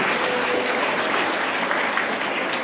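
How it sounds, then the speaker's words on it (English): Dense, continuous applause from an audience at an Ayurveda Day celebration in Porvorim, honoring essay competition winners, a steady wash of many hands clapping, loud and unbroken. "Please, a good round of applause for all the winners and participants of the essay competition."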